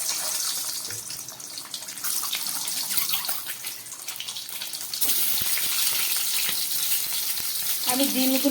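Eggs fry in white oil in a wok, giving a continuous hiss and crackle that grows louder and denser partway through, close and steady, with no talking.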